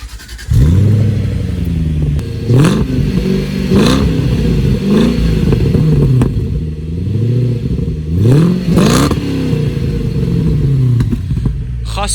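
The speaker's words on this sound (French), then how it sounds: "Alors Jérôme va nous faire écouter la sonorité." Supercharged Jaguar S-Type R engine blipped repeatedly: a steady close idle broken by five or six sharp revs that swell and fall back, each rising in pitch, with a faint voice or two between them.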